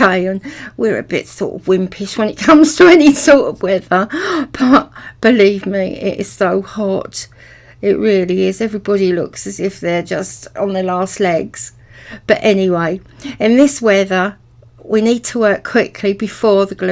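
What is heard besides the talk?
No everyday noise stands out behind the speech.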